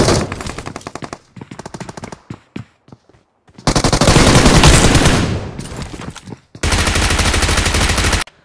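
Automatic gunfire from a mobile battle-royale shooting game: a few short bursts and single shots, then long sustained loud volleys of rapid fire, close and dominant with no voices.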